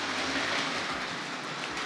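A Hornby R.761 Kneller Hall model locomotive with Pullman cars rolls steadily along the track, a continuous rattling hum with faint clicks as the wheels pass over a diamond crossing.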